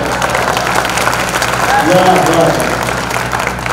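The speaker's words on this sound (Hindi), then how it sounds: "एक साथ तालियां हो तो अच्छा लगेगा" Audience applause at an Urdu-Hindi youth mushaira poetry recital, a steady wash of clapping from a crowd that holds at a constant level through the whole stretch, with some voices mixed in underneath.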